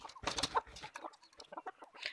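Crossbred fighting-breed country chickens on a forest farm at night cluck in quick, close, irregular bursts that keep going without a break.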